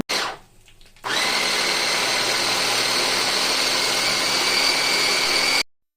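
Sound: electric chopper chopping onions

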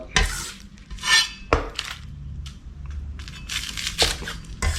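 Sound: crunchy fried tofu skin being cut

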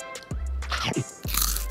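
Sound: eating a bite of brownie crepe roll

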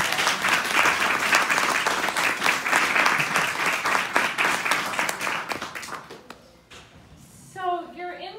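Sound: round of applause at conference

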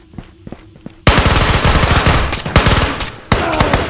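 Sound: gunfire in the video game Ghosts of Tabor

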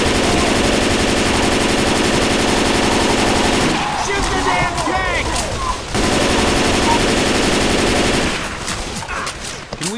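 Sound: gunfire in a video game

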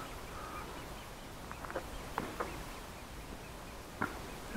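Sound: birds floating on the water, ducks quacking

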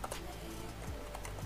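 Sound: typing on a computer keyboard

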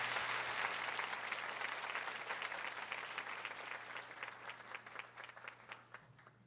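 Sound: congregation applause at worship service

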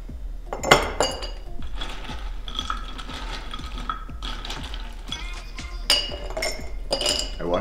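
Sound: ice cubes dropped into mason jars

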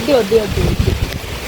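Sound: strong wind

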